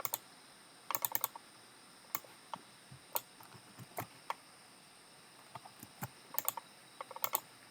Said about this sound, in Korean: 이 기준열에서 컨트롤 2를 누르고 5번을 선택하면요